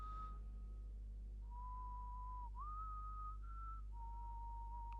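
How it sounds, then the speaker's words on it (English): Someone whistles a slow, wandering tune of long held notes that slide between pitches, faint over a steady low background hum during a Destiny game stream. "Who's whistling?"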